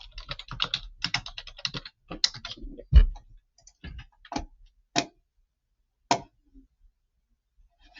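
Typing on a computer keyboard, with a quick burst of clustered key clicks followed by slower, scattered single taps and pauses, close and crisp in a quiet room.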